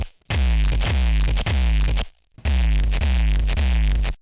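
A synthesized tone being shaped into a hardcore kick drum, heard as two loud, sustained, distorted bursts of repeating pulsing hits separated by a short gap, with no voice.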